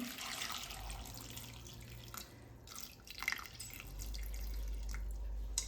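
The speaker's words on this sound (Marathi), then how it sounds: "एक तांब्यावर पाणी घातलेलं आहे" Water pours and splashes steadily into a cooking pot holding mango pieces for pickle, with a continuous rushing flow and small drips that swell louder toward the end.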